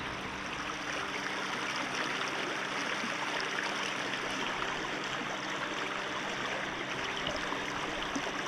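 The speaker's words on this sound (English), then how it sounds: "There's a creek right up here." Creek water rushing steadily in a snowy outdoor setting, a continuous broad hiss and burble, moderately loud with no talking.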